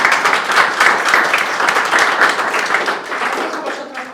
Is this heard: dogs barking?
no